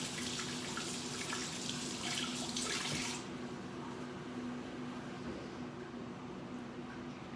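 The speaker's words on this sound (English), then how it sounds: "I'm gonna wash my hands." Tap water runs steadily into a kitchen sink while hands are washed between steps of making a lemon sponge pudding, a close continuous hiss that softens after about three seconds and keeps flowing quietly.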